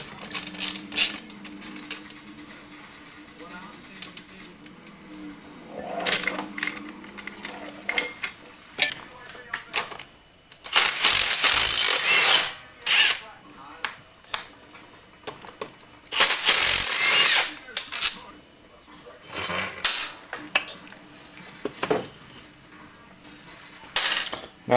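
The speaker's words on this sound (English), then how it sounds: "We're going to take this, your swing arm axle nut off." Wrench work loosening the 19 mm swing arm axle nut on a Honda Grom motorcycle during an engine removal, with bursts of metallic ratcheting and clanking, some loud, spread between quieter stretches of handling noise.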